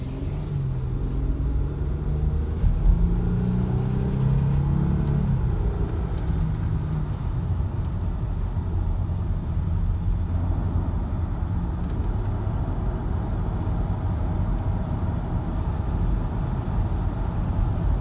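A 2003 Audi A6 Quattro with a 3.0 V6 and five-speed automatic drives along steadily, its engine and road noise a loud, continuous rumble with a smooth low drone that eases slightly early on and then holds even.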